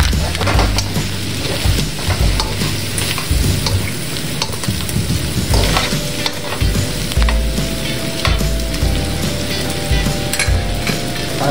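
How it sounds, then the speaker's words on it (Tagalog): Dinuguan pork blood stew is stirred in a hot pan, with a busy, close sizzle broken by repeated scraping strokes that come in an uneven rhythm, and a faint tonal hum sits underneath. "haluin nyo pong mabuti mga lodi"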